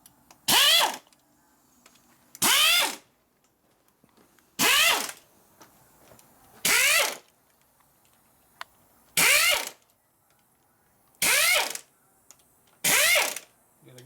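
A power tool on a Harley twin cam engine fires seven loud, separate ratcheting bursts of about half a second each, evenly spaced with quiet gaps between, while removing the lifter block.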